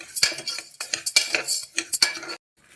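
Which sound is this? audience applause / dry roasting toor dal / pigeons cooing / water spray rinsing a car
dry roasting toor dal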